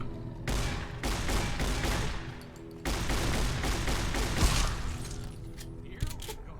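Gunfire from the video game Fallout: New Vegas comes in two long, dense bursts of rapid shots, loud and close, separated by a brief lull. A few scattered single clicks and bangs follow at the end.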